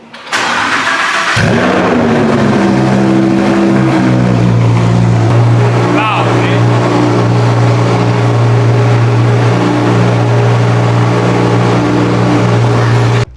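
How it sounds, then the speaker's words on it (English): A V10 engine in an Audi R8 cold-starts, cranking and roaring to life, then settles into a loud, steady, deep rumbling idle close by. "So that's obviously on your cold start, the V10 engine."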